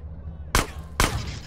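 Two sharp gunshots about half a second apart ring out in Grand Theft Auto: San Andreas, each a loud crack with a short decay over a low background hum.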